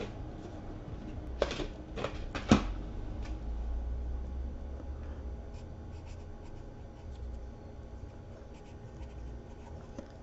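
A pen writes during a programming lesson, giving soft continuous scratching strokes close to the page, with a few sharper taps and scrapes early on before settling into quieter, steady writing.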